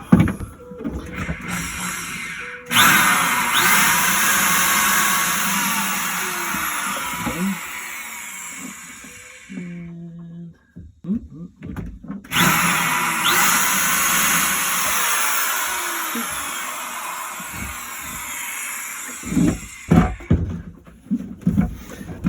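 A power drill drives screws aboard a sailboat, whirring loudly in two long sustained runs with a brief pause between them and short bursts of handling noise at the end.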